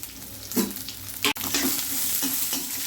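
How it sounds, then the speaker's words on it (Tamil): Finely chopped onions hiss and sizzle loudly in a hot pan, broken by several close stirring scrapes and clatters, with no voices. "3 வெங்காயம் பொடியாக கட் பண்ணி வச்சுருக்கேன். அதை போட்டுக்கலாம்."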